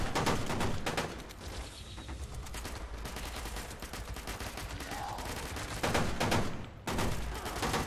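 A weak automatic weapon in Fallout 76 fires in sustained bursts, with a steady rattle of shots nearly filling the stretch and brief loud surges near the end, no voices over it.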